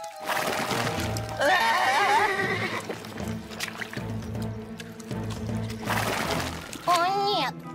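A horse in a cartoon gives several high, wavering whinnies, loud and close, with music and splashy sounds around them and children's voices speaking in between.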